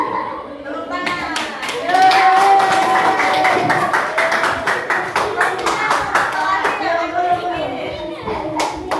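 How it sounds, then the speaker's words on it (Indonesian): Schoolchildren clap their hands in a classroom, a sustained round of fast, dense claps from many small hands, fairly close and loud, with children's voices and chatter mixed in underneath. "Tepuk tangan."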